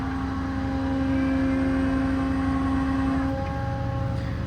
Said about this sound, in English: you can manually operate the crane as well from the valves here, winch up and down